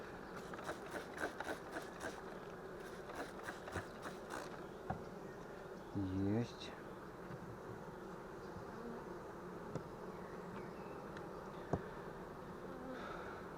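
A faint, continuous insect hum of honey bees at a hive fills the background, with occasional light clicks and a brief louder mechanical burst midway.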